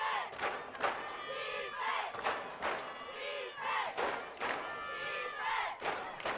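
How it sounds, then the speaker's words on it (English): A loud football crowd at Imperial's home stadium roars and chants in repeated rhythmic surges, with shouts and whoops rising and falling throughout. "Boy, the crowd's loud tonight over here in Imperial."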